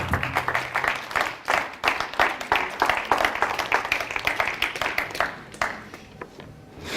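An audience breaks into applause, a dense, fairly loud patter of many hands clapping that stays strong and then thins out toward the end.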